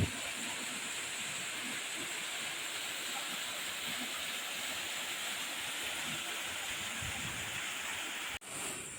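Agtilad Falls, a waterfall about 20 feet high dropping into a pool about 10 feet deep in Tapaz, Capiz, roars with a steady, dense rush of water that holds constant throughout before a brief dip near the end.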